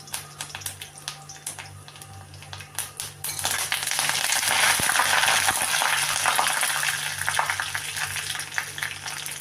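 Dried red chillies and curry leaves fry in hot oil, a loud, dense crackling sizzle that swells sharply after a few seconds of quieter spitting, with scattered pops throughout.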